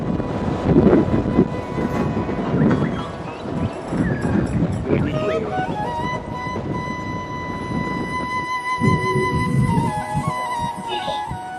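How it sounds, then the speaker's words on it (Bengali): A train on the Ranaghat to Gede line runs along with rumbling wheels and rattling carriages, loud and close, with a rising whine and wind noise; a voice talks over it early on. "ট্রেন স্টেশন ছাড়ার পরেই তার নির্দিষ্ট পারমিট স্পিড নিয়ে কৃষ্ণনগর ও লালগোলা লাইনকে বাদিকে রেখে চলে গেল তার নিজস্ব রুটে"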